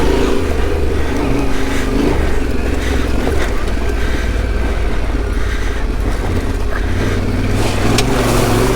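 A Yamaha adventure motorcycle rides off-road, with a continuous loud engine drone and rumbling wind and terrain noise throughout, steady and close with no speech.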